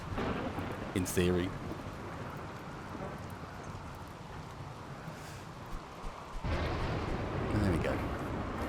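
Rain falls steadily during a RimWorld match, with rumbling thunder-like booms near the start and again toward the end, while someone speaks briefly over it.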